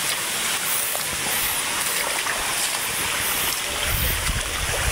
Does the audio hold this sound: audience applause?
no